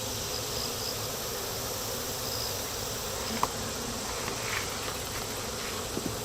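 Steady, dense buzzing of many honey bees close by as a package of bees is installed in a hive, a continuous drone throughout with a couple of faint clicks.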